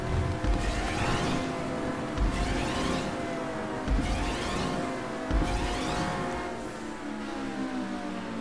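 A video game racing car engine revs and whines loudly, pitch sweeping up with each gear shift in repeated surges, with a few thumps along the way.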